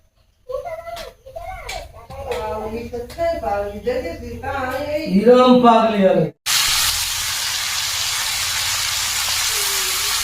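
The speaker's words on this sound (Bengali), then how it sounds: "এদিকে দিয়ে দেবো ঢ্যাঁড়স আলু। ঢ্যাঁড়স আলু ভালো করে কষা করে নেব এবার।" Okra and potato hit hot oil in a pan and burst into a loud, steady sizzle that starts abruptly and holds, after a stretch of someone talking close by.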